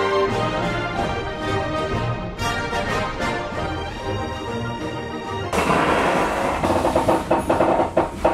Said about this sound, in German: Vertrauen Sie mir, dies ist ein sicherer Zug.